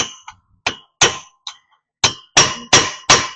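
A hammer strikes a chisel against the rear driveshaft seal of a 2002 GMC 1500 truck, giving about nine sharp metallic clangs at uneven intervals. Each strike rings briefly, and the last few come faster and louder.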